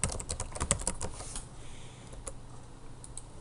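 Fast typing on a computer keyboard, a quick run of close key clicks for about a second and a half, then it thins out to a few scattered taps.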